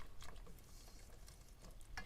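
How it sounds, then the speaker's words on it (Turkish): A yogurt and flour mixture being whisked by hand in a pot, making a soft, continuous scraping and stirring sound, quiet and close, with no talking. "İyice çırpıyorum pürüzsüz hale gelene kadar."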